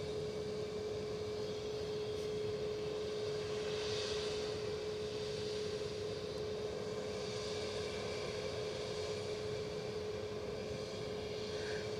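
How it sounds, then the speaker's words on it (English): An ATR 72 turboprop arriving from Exeter approaches to land at Edinburgh Airport, heard as a distant, steady drone with a constant tonal hum running through the whole stretch. "That ATR that we spoke about a short while ago is gently coming in on finals from Exeter."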